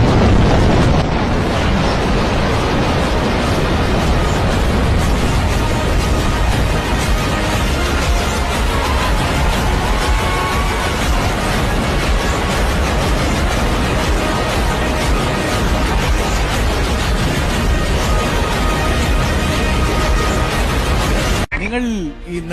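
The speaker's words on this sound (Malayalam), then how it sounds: "ഇതൊന്നുമല്ല വെടിക്കെട്ടെന്നൊക്കെ പറഞ്ഞാൽ ഇതാണ് വെടിക്കെട്ട്" A festival fireworks display at Nenmara Vallangi Vela erupts in a dense, relentless barrage of loud blasts and booms, merging into a continuous roaring wall of explosions that stops abruptly near the end.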